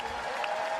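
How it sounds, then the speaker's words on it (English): Audience applause for the selection committee at the Miss Universe 2020 preliminary competition, a dense steady wash of clapping across the whole short moment, moderately loud and with no break. "Let's give another round of applause for our selection committee."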